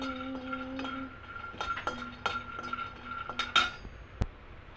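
Peanuts are roasted in a pan while a metal spoon stirs them, giving quiet scrapes and scattered bright clinks against the pan, with faint tonal background sound underneath.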